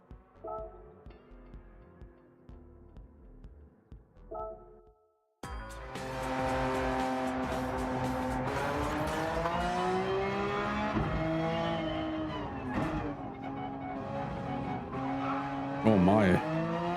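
A race car in Gran Turismo 7 revs hard, its engine pitch climbing and dropping through gear shifts with tire squeal, after a quieter opening of game engine sound with brief pauses, loud and continuous to the end.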